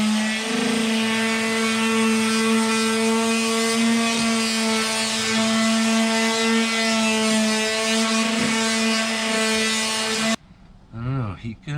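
A power sander works cured Sikaflex sealant on a wooden Tahiti gaff cutter sailboat, giving a loud, steady, high-pitched whining drone for about ten seconds before cutting off, after which a brief voice-like sound follows.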